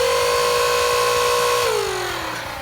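Flywheels of a Walcom S7 Hellhound Nerf blaster, run on 2S LiPo batteries, rev in a steady high motor whine that holds, then winds down in pitch as the rev is released, loud and close.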